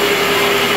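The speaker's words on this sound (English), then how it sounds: "with the engine running under load" A wood gas engine runs under load, giving a loud, steady mechanical hum with a strong constant tone throughout and no speech.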